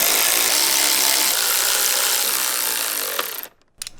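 A power driver with a 7mm socket tightening battery hold-down bolts on a Jeep Wrangler JL, a loud continuous whirring grind that cuts off abruptly, followed by brief clicks.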